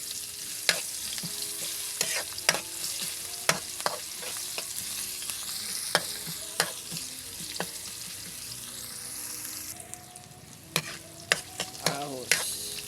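Ginger and onion fry in hot oil for pork adobo, a steady close sizzle punctuated by repeated scraping stirs of a utensil against the pan, with a brief water-like sound near the end.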